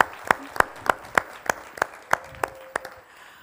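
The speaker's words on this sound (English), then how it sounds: "I would like to give them a loud applause" Slow, evenly spaced claps at a Talent Boost Tampere event, about ten sharp, distinct hand strikes at a measured rhythm, fairly close, with quiet gaps between them rather than a full wash of applause.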